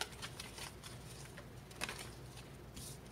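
Tarot cards are shuffled close up, a quiet papery riffle and soft slapping that comes in uneven bursts, with a sharper snap near the middle.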